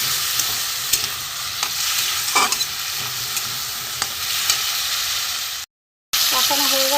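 Spice paste sautéing in a pan for a potato, kochu and rui fish curry, a steady close sizzle with scattered scraping stirs, cut by a brief dropout near the end before the frying noise resumes.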